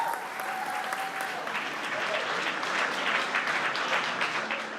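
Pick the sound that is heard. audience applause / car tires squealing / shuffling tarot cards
audience applause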